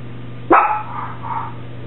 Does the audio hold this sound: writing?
no